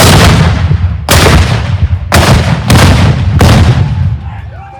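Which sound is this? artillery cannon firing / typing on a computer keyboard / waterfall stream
artillery cannon firing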